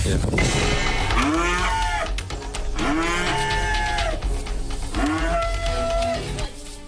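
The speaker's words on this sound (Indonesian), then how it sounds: "Sapi-sapi milik peternak di Kabupaten Lombok Tengah ini berontak saat penyuntikan vaksin penyakit mulut dan kuku oleh petugas Senin siang." Cattle in Central Lombok, Indonesia, struggling while being injected with foot-and-mouth disease vaccine, give three loud, drawn-out moos in close succession, each rising then falling, near and clear over faint background noise.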